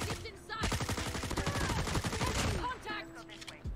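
Rapid bursts of L-CAR 9 pistol fire in the Call of Duty Mobile shooter, many quick sharp shots in a fast rhythm for a few seconds, then trailing off into quieter game sounds.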